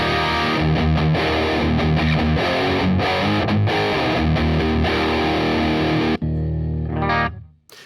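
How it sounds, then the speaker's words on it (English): Electric guitar driven through the drive channel of a Marshall DSL-40 amp, loud overdriven chords played in a steady strummed pattern, ending with a sustained chord that fades out. "I will sometimes use the drive channel from the amplifier, and that sounds like this."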